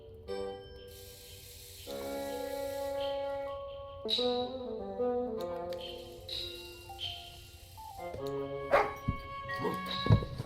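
A dog barks a few times in The Little Acre, a PC adventure game, with short bursts breaking through a steady tonal music score.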